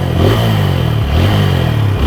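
An Apache 4V 160cc double-disc motorcycle engine revs up in two loud surges with a brief dip between them, close by and steady throttle roar.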